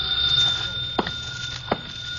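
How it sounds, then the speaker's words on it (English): A telephone rings twice in short electronic bursts, about a second apart, over a steady low background hum. "the phone started ringing."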